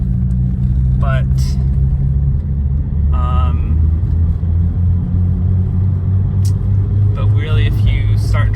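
A 1991 BMW M5 drives along with a steady, loud engine and road rumble throughout, and brief higher squeaks or chirps rise above it near the start, middle and end.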